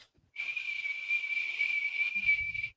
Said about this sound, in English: I'm hearing a loud, like right now, a whistle or a whine or a whatever just going on.